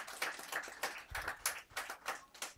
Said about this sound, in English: Clap your hand for the Lord.